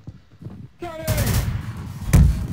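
Gunfire in a Garry's Mod roleplay game: a broadband burst of shots from about one second on, with a sharper loud report near the end, over game noise and a brief tonal whistle.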